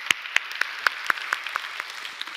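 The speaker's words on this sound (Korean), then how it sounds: "우리 박수로 하나님 앞에 영광드리겠습니다" A church congregation gives slow, evenly spaced claps during a Sunday worship service, about ten distinct hand claps in a steady rhythm, moderately quiet with a soft room hum beneath.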